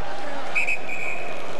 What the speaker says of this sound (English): Whistle at center ice.